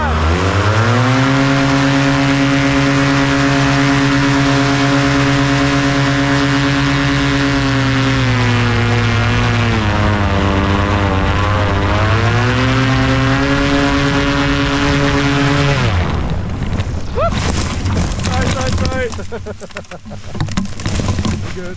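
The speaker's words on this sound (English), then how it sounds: "1, 2, 3, it's paramotor time." Paramotor engine and propeller at launch, a loud sustained droning buzz close by that holds steady, dips and rises in pitch, then breaks into gusty wind and rumble as the run begins.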